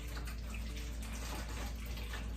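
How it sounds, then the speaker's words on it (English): Warm water pours steadily into a small tray for bathing tortoises, a continuous close splashing trickle with a low hum underneath and no talking. "I'm going to pour some warm water into the tray."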